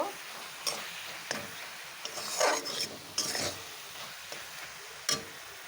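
Coconut filling cooking in a pan, stirred by hand with repeated close scraping and rasping strokes over a soft, steady sizzle.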